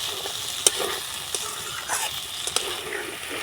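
Potatoes and peas stirred and fried in a pan, a close crackling sizzle with a few brisk spatula scrapes and taps.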